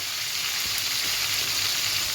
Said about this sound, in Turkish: İkisi de birlikte kızarsın.